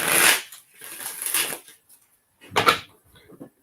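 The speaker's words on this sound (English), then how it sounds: "Gonna get these shuffled up a little bit for you" Tarot cards are shuffled by hand in three short riffling bursts, close and crisp, with quiet pauses between them.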